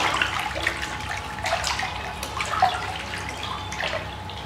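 About 20 grams of turmeric powder is stirred by hand into water, giving close, irregular sloshing and splashing with small drips and swirls throughout.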